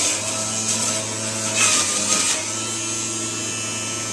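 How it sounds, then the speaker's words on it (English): A juicer grinding a full load of celery at once, heard as a steady close motor hum with a harsh rasping, grinding swell partway through. "Put all the celery at one time. And I just grind through."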